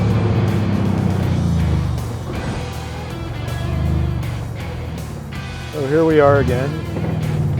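A 1961 Corvette with a TKX gearbox revs hard up to its rev limiter, giving a loud, steady engine drone that rises and dips, while someone talks over it.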